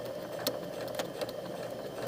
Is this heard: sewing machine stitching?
yes